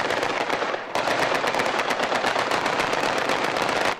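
Rapid, continuous bursts of gunfire crackle loudly during a prison riot operation, a dense barrage of shots with only a brief dip before resuming at full intensity.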